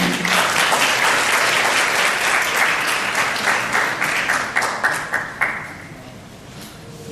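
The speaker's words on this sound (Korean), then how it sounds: "큰 박수로 환영해 주시기 바랍니다" A seminar audience breaks into loud, sustained applause to welcome a presenting professor, the dense clapping thinning into scattered individual claps before fading out.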